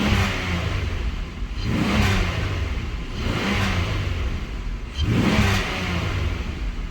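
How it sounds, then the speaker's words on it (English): Engine of a 2007 Buick Lucerne revving as the throttle is blipped several times, loud and close, each rise and fall of the engine note repeating in a rough rhythm during an EGR and PCV test. "gonna give it a little gas so you can see by the throttle position"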